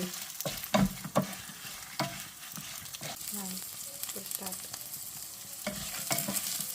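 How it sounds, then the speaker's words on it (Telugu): Dry red chilies fry in hot oil for an Andhra-style curry leaf pickle, giving a steady close sizzle broken by repeated scraping strokes of a spoon stirring the pan. "ఎండుమిర్చి వేగిన తర్వాత వెల్లుల్లిపాయలు వేసేసుకోవడం"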